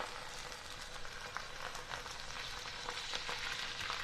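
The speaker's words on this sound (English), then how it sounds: "I can tell that this is a good temperature because I'm hearing it sizzle" An Arctic char fillet seasoned with salt and pepper sizzles in a hot pan, a steady quiet hiss of frying with faint crackles and pops throughout, and no voices.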